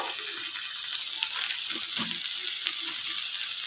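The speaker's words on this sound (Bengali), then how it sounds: "সব কিছু ভালো করে আমি এবার একটুখানি কষিয়ে নেব" Pointed gourd sautés in a pan with beaten curd and chilli powder, a continuous close sizzle broken by soft stirring scrapes.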